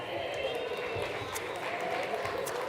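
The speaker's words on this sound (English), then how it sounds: "Let's give Lynn a round of applause." An audience at a winter speaker event and gear raffle applauds a winner, producing a steady wash of clapping and crowd noise that holds evenly throughout the brief moment.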